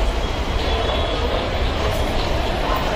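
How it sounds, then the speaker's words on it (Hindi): Steady rumbling rail noise of a metro train at MG Road metro station in Gurgaon, a continuous close broadband drone without distinct voices. "MG road metro station"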